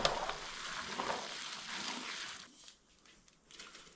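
Hands mixing kimchi seasoning of broth, salted shrimp and ground ingredients into a big batch of napa cabbage, giving a close, continuous wet squelching and rustling that thins out near the end.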